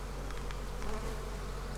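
Dense, steady buzz of many honey bees swarming over brood frames in an opened hive, close and continuous throughout.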